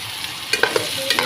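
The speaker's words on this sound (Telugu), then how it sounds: "ఇప్పుడైతే అల్లం తెల్లగడ్డ పేస్ట్ అయితే వేసుకోవాలి" Onions frying with ginger-garlic paste for an okra and mutton curry, a steady sizzle with a few quick stirring scrapes, close and alone.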